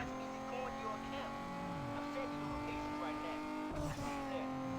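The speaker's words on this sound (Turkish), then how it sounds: "O yüzden arabanın sesini dinlemek gayet yeterli bir eğlence olacak bizim için." Car engine in the racing game Need for Speed Underground 2, a steady revving drone with shifting pitch, heard under continuous talk.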